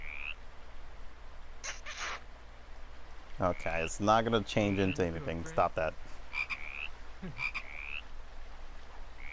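A giant frog in VRChat croaks in short repeated bursts, fairly close, while a person talks over part of it.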